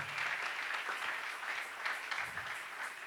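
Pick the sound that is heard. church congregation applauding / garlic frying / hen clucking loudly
church congregation applauding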